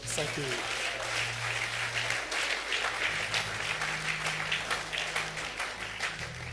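Audience at a French-language church gathering on entrepreneurship clapping steadily, a dense, continuous applause filling the room, with a low hum and some voices beneath it.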